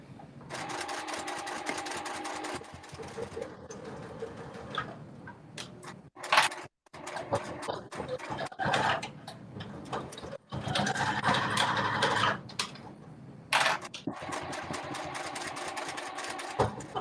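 A sewing machine stitches a crossbody cell phone bag in long runs of fast, steady rattling, broken by short pauses and a few clunks as the work is repositioned, close and loud.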